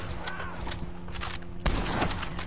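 Carcano rifle shots in the Red Dead Online video game, with a burst of loud, sharp reports near the end over a steady background of game noise.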